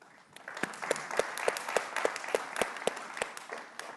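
Audience applause at a national security talk on AI, a steady patter of many hands clapping that swells and holds with scattered louder claps standing out, fairly distant in a large hall.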